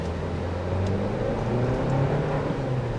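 A 2024 Toyota Land Cruiser First Edition pulling away under acceleration, its engine note rising in a steady, moderately loud hum with a rising tone heard from inside the cabin.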